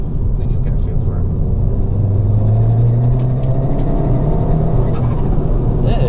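A tuned 330bhp Ford Fiesta ST accelerating hard in third gear, heard from inside the car as a loud, steady engine rumble and drone that rises slowly in pitch, with voices talking over it.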